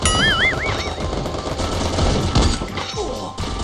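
Rapid automatic gunfire crackles in a shooting game, loud and close, with bursts of shots running throughout alongside a warbling electronic tone at the start.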